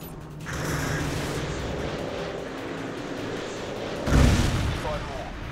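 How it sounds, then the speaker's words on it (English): AGM missile strike in Modern Warfare 2, a continuous rushing roar of the incoming missile followed by a loud, heavy explosion impact near the end. "AGM missile is online."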